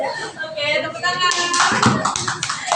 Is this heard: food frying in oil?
no